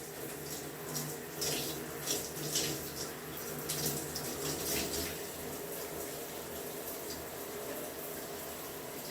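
Water runs steadily from a tap or shower while hair is rinsed, a continuous soft splashing hiss with small fluctuations, moderately faint and with no talking over it.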